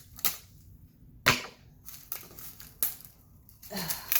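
Packing tape rips off a package in short, sharp tearing bursts with pauses between them, close and fairly loud against a quiet room.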